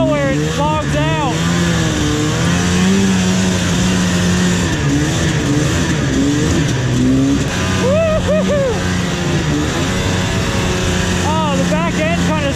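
Vintage snowmobile engine pinned at full throttle, a loud close buzzing whine that surges and bogs in pitch, with wind noise and people talking over it throughout.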